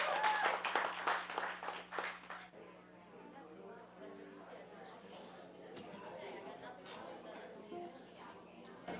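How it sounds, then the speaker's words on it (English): Audience at a live show applauds and chatters, loud clapping for the first two seconds, then tapering into a lower murmur of crowd noise and scattered voices with a steady hum underneath. "Thanks for the applause."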